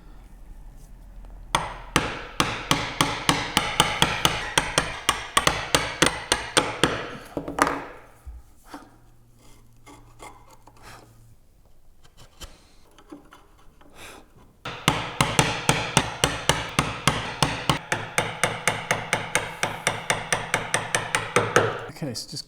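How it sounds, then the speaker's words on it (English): A sharp chisel driven by mallet blows, chopping down into knife lines on a practice wood joint frame; two long runs of rapid, evenly spaced loud knocks, split by a quieter stretch of light scraping and faint tapping. "So now we just need to chop down into these knife lines"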